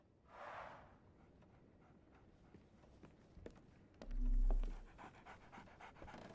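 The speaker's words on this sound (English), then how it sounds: "So, Barnes has a dog now." A dog pants in the game Sherlock Holmes The Awakened, quick rhythmic breaths close by under soft footsteps and ambient noise, with a low thump partway through and no talking.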